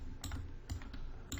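Computer keyboard keys pressed in a short burst of clicks while running a .NET 6 C# web API, a few close, crisp keystrokes with no talking.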